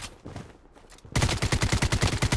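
Full-auto SKS rifle fire in the Blood Strike shooter game: a quiet, sparse lead-in gives way to a loud, rapid, evenly spaced burst of shots that continues to the end.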